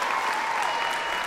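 Dense, steady audience applause fills a televised Georgian singing-contest final (Ranina, season three) as a singer leaves the stage, loud and continuous throughout.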